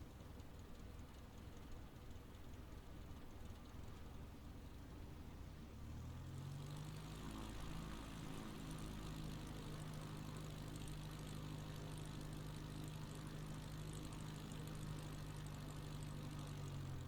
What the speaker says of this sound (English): That's a neat little plane.